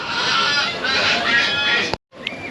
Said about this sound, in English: we've got a couple of noisy seagulls down below